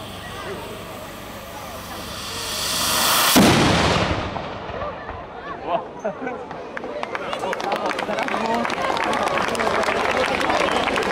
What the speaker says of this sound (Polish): żeby nie stawać przed armatą. Proszę Cię bardzo. Można odpalać, panie Marku.